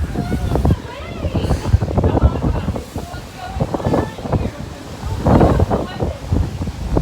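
Strong wind and heavy waves in bad weather, with rain and spray. A loud, constant roaring rush with gusting surges, close to the microphone and buffeting it throughout.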